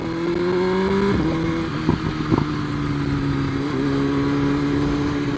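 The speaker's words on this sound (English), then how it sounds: "exhaust burbles that come out of this bike every time you let off the throttle and downshift" A 2024 BMW S1000RR sport bike's exhaust burbles and pops as the throttle closes and it downshifts, a steady close engine drone broken by a few sharp crackles and shifting pitch.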